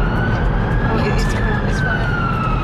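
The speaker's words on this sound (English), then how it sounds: "Hear the siren again." An ambulance siren wails through city traffic, a steady sweeping tone heard at moderate distance over continuous road rumble.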